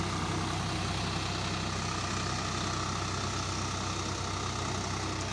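Swaraj 744 FE tractor engine running steadily in a rice field, a constant loud diesel drone with low rumble throughout, no voices.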